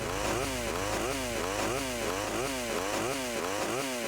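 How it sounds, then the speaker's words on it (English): Chainsaw in GTA Vice City Definitive Edition, a loud continuous revving whine with fast repeating rising-and-falling pitch sweeps, steady and unbroken throughout. "And this is how it sounds in the Definitive."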